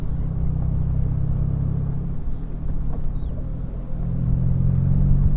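A Morgan Plus 4 Centenaire's engine drones steadily up close, its low rumble dipping briefly and then rising again as the car drops a gear, with no talk over it.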